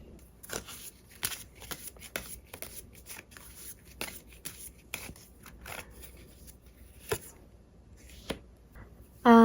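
Tarot cards are shuffled by hand in a quiet room, with a string of crisp slapping and riffling snaps at an irregular pace, close and fairly soft.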